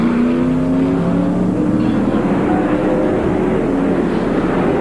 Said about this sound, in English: Now here are the cars coming out of the pits.